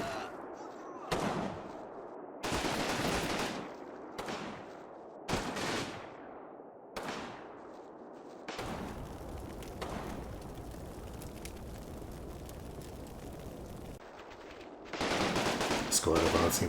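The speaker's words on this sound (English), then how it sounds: "LMG gunner is hit, and there's a crossfire from the right." Bursts of machine-gun and rifle crossfire from the Normandy-set wartime game Combat Mission Battle for Normandy crackle in repeated volleys separated by short gaps, then settle into a steadier rattle before a final loud flurry.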